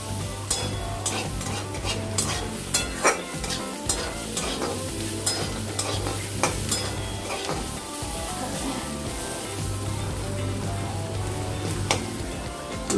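Potatoes and pointed gourd fry for a fish curry, making a loud, continuous sizzle with frequent sharp pops and crackles. A low steady hum runs underneath in stretches, and no one speaks.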